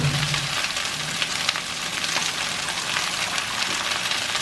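A steady, loud sizzle and hiss as water hits a hot skillet of salmon, continuous frying crackle filling the whole stretch with no talk.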